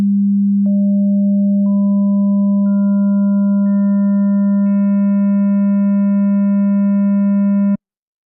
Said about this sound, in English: that's how a triangle wave sounds